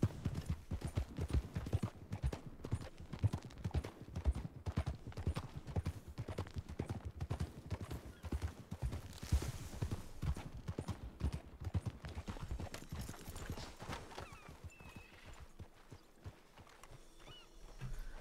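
Hooves of a Missouri Foxtrotter horse in the Red Dead game clip-clop in a steady rhythm that runs on and on, fairly faint, with some soft background noise.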